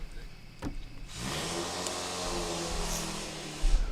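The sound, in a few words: car engine revving in the background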